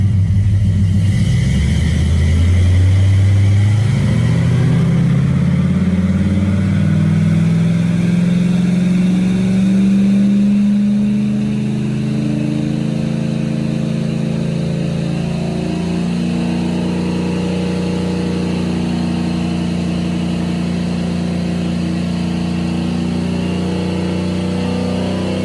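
An engine tuned with Sniper EFI to 13:1 air-fuel ratio makes a full-power pull, a loud sustained roar that climbs steadily in pitch over several seconds and then holds a steady high drone, with no talk.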